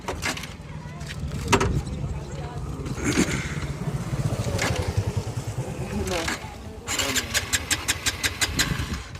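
A vehicle engine in hill country cranks repeatedly without catching, its starter whirring in bursts with a fast rhythmic chatter near the end, close and loud while someone talks over it.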